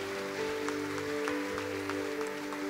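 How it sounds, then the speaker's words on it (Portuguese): A church congregation applauds its volunteers with a quiet, scattered patter of clapping over a steady low electrical hum, sounding distant in the room. "Vocês podem dar uma salva de palmas para os nossos voluntários?"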